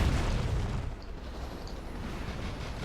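A Grand Slam strike detonates in the Rise of the Reds real-time strategy game, a loud deep boom that rumbles and decays into a long low roar with no voices.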